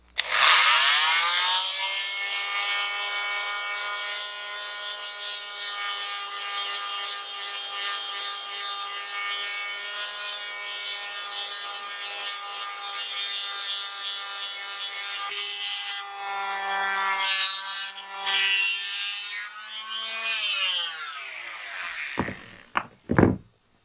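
A power sander whines as it grinds down a raised bump on a cast iron skillet, a sustained close tonal drone that wavers under load, then winds down to silence near the end.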